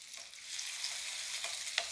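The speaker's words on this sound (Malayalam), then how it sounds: "ഒന്ന് ഇളക്കാം" Crushed garlic and small shallots fry and hiss in a pan while being stirred, a faint steady sizzle with a few brief scraping strokes, no talking.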